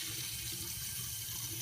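A tap runs into a sink, a steady close hiss of flowing water that continues without pause, with no talk.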